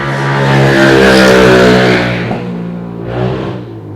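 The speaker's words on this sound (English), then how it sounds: "you'd have heard a very loud bike passing a while ago" A very loud motorbike roars past close by, its engine drone swelling and then fading away, with a brief second rise in engine noise near the end.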